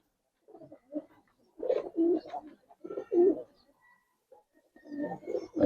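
Giribaz coloring pigeons from a Bangladeshi breeder's loft give repeated low rolling coos in several close bursts with brief pauses, moderately loud and unaccompanied by speech.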